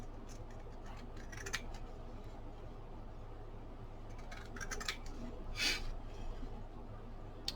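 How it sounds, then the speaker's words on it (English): Pinking shears snip through fabric during a craft session, giving a few crisp, close cutting bursts over a steady low background hum, with one stronger slicing stroke near the end. "I'm going to use my pinking shears"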